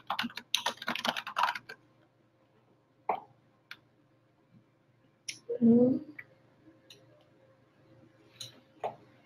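Keys clatter on a computer keyboard in short bursts of quick clicks separated by pauses, fairly faint and close, with a voice speaking briefly between the typing.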